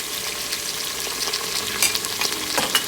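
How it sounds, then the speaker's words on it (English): Ginger garlic paste sizzles steadily in hot oil in a one-pot chicken biryani, with scraping stir strokes and brief spatters rising near the end; no one talks. "And of course, we're going to add in our ginger garlic paste."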